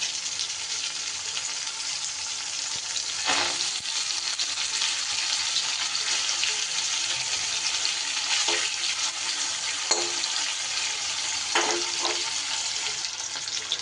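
Fish fat sizzles in a dry, hot wok with a continuous crackling fry, punctuated by a few light taps and scrapes of a utensil, no voices.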